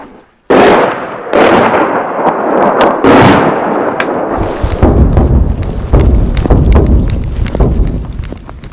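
Artillery shelling and gunfire on Ukraine's eastern front in the Donbas, heard as a dense run of loud, close blasts and sharp cracks that follow one another almost without pause, with no voices.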